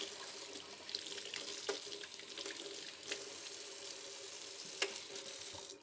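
Cold water streams steadily from a kitchen tap to cool boiled eggs, a soft continuous rush broken by a few faint clinks and knocks.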